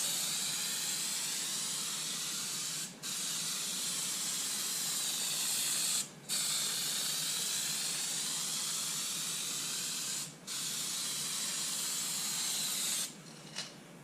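Heavy bedliner coating sprayed onto a Ford F350 truck bed, a steady loud hiss running continuously with three or four brief pauses where the spray gun trigger is released.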